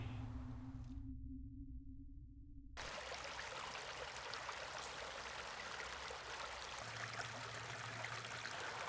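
Creek water flowing steadily at an old railroad trestle site on the east side of Maco Road in North Carolina, a continuous broadband rush and trickle heard close up, with no voices.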